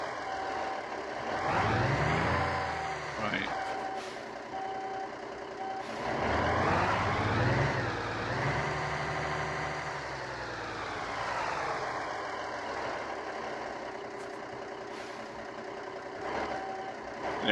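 A truck in Alaskan Road Truckers backs a trailer into a parking spot, its engine rumbling and shifting pitch while steady reversing beeps repeat over it, with a brief spoken word and faint air brake hiss.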